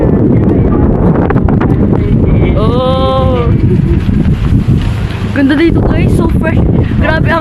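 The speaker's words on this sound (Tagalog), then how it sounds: "Grabe ang hangin." Strong wind buffets the microphone in a steady, loud roar at an outdoor mall park, with people talking in Filipino over it throughout.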